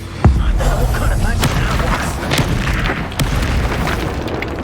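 Confringo spell explosions in Hogwarts Legacy land as a sharp boom followed by a run of rumbling blasts and pops, loud and close, with voices mixed in.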